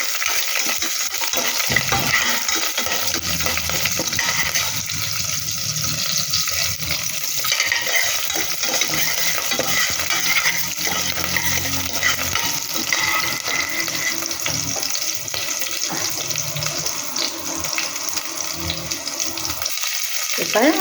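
Onions and curry leaves stirred and fried in a pan while making ragi vermicelli, with a steady dense sizzle and stirring scrapes running throughout, loud and close, with faint talk in the background.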